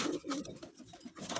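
Racing pigeons coo at close range in soft, throaty, rolling murmurs that overlap continuously, with no talking.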